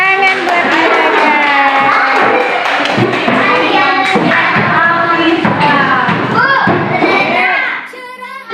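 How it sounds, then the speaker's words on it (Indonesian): A group of students bursts into applause in a classroom, dense sustained clapping mixed with children's voices and chatter for several seconds before fading near the end. "Tepuk tangan buat mereka."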